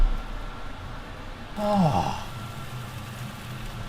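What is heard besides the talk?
kitchen extractor fan running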